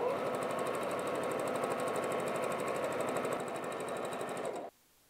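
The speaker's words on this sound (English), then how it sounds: "I'm just going to sew that down" A sewing machine stitches leftover fabric down near the edge while making a wallet, a rapid, even mechanical chatter held for several seconds before stopping abruptly.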